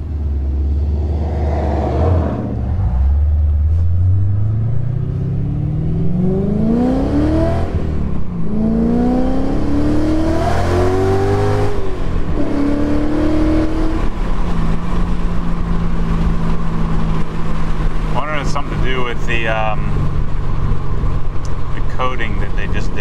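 A BMW E92 M3 fitted with American Racing headers, traction control switched off, is driven hard: the engine growls at idle, then climbs through several rising rev pulls, each followed by a shift, before settling into a steady cruising drone.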